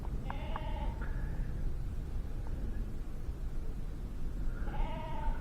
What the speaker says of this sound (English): I understand it's a sheep, it's in distress